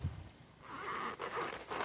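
A zipper on a waterproof duffel bag is pulled outdoors on a breezy day, giving a steady close rasp over wind rumble.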